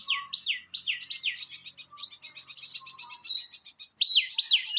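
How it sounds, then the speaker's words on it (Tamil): Busy, overlapping chirps and tweets from many kinds of small birds, with squirrels, repeat quickly and continuously in a tree, bright and fairly close, like a flock of sparrows chattering. "அணில் குருவி எல்லாம் வந்து ஒட்டுக்காக சவுண்டு விட்டு ஓவர் சவுண்டாக இருக்குது"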